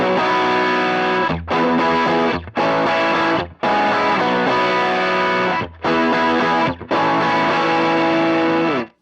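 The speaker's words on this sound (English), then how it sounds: "This is supposed to be distortion-ish type stuff." Electric guitar played through a JHS Kilt V2 pedal on its distortion setting, sustained saturated chords with rich harmonics, loud and close, broken by short gaps between strums and with no talking.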